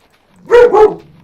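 A puppy lets out two quick, loud barks close by, back to back, with a brief whimpery tail and quiet before and after.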